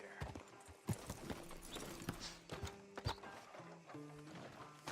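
Horse hooves clip-clop steadily in the Red Dead Redemption 2 video game, a near, rhythmic run of hoof strikes at a walking pace with occasional louder knocks, alone without talk.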